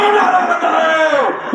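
A rally crowd at a political workers' convention shouts a slogan together in one loud, sustained chant that swells and then drops away, filling the space close and dense.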